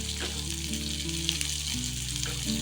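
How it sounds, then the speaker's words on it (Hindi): Chopped onion fries with garlic in a pan for a spicy tomato chutney, giving a steady close sizzle with faint crackles under a low hum, no voices. "प्याज को पिंक होने तक भूनेंगे।"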